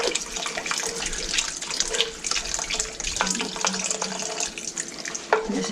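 Water pours steadily into a pot of Tuscan soup on the stove, a continuous splashing stream at moderate level with no one speaking.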